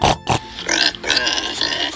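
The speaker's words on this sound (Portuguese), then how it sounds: "Isso mesmo, é um porco." A pig oinks and grunts in a children's farm-animal guessing game, two short snorts followed by longer loud squealing grunts, close and alone.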